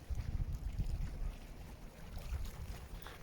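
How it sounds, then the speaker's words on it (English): Distant pleasure boat engines on Loch Ness drone over gusty wind buffeting the microphone, a low rumbling swell that rises and falls without speech. "There's the boaties. They go up and down almost all day,"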